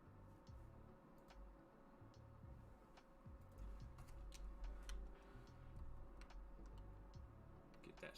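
A shot clock ticks in a steady, quiet rhythm alongside a scatter of soft clicks, faint and close in a low-level background.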